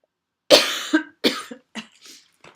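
A series of short coughs, about five bursts, close and fairly loud with brief pauses between them.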